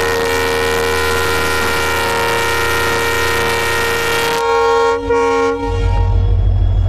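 Train pulling away from a two-minute station halt at Tiptur, with a steady engine drone and rolling rumble that shifts partway through as the train moves off, close and loud.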